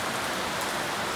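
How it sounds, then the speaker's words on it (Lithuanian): Steady outdoor rain falling on surfaces during a road trip, a continuous even wash of close patter with no breaks and no voices. "Lietus nenori sustoti."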